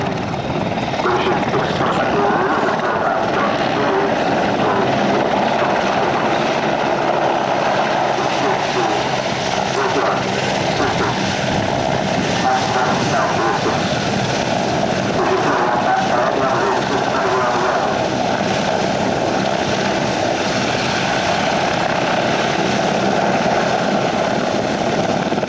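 A propeller or rotor aircraft flies at the Middle Wallop airshow, giving a loud, steady engine drone and roar that holds without a break from start to finish.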